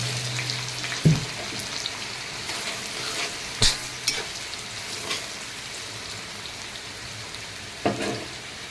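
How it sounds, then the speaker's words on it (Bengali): Chopped onion frying in oil for a potato ghugni dish, a steady moderate sizzle with a few sharp clinks of stirring utensils scattered through, no voices. "এখন আমি দিয়ে দেবো পেঁয়াজ কুচি।"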